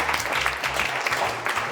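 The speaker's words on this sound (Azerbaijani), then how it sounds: "Alqışlayaq, bəli." A studio audience at a comedy talk show claps briefly, a moderate burst of applause with uneven, fading rhythm and low background murmur.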